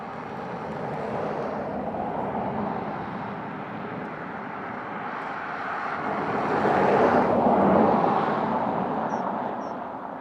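An American Airlines heavy jet arriving at Dublin Airport from Dallas/Fort Worth makes a steady broadband roar that swells louder toward the end as it passes nearer, then eases slightly.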